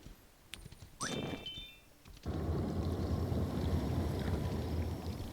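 Steady broadband rain hiss with low rumble in the video game Kingdom Two Crowns fills the scene after a brief watery splash and a few tones, loud and continuous.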